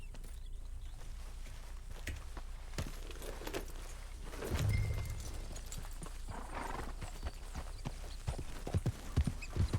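A horse in the video game Red Dead Redemption 2 walks with steady clip-clopping hooves, moderately close, with a brief swell of other game sound midway and no talking.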